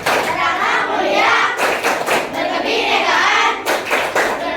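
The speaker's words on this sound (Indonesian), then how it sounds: "tepuk pelajar Pancasila" Indonesian school students perform the rhythmic Pancasila student clap chant together: loud, steady group clapping in quick patterned bursts with chanted voices, continuous throughout.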